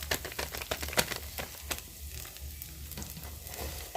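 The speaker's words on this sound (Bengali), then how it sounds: "কালারের জন্য আমি তেলের মধ্যেই দিয়ে দেব কাশ্মীরি মির্চ।" Kashmiri chili powder sizzling in hot oil in a pan for a rajma curry, with a crackling, spitting fizz and sharp stirring clicks close by, steady throughout.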